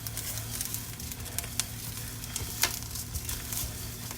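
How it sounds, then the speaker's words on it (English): Rice toasting in a pan on an electric stovetop, a steady soft sizzle and crackle with scattered small pops and a constant low hum underneath, close and without talk. "My rice is toasting up nicely."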